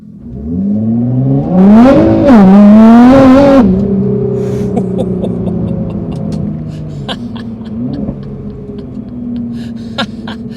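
A Nissan GT-R engine revs hard and climbs in pitch for a couple of seconds, then settles into a steady loud drone with faint clicks.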